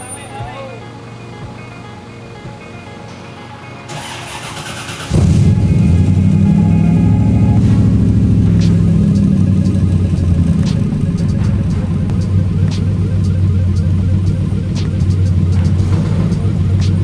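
A Chevrolet Corvette Grand Sport engine fires up after a quieter stretch, settling into a loud, steady, deep running rumble close by; people talk over the earlier part.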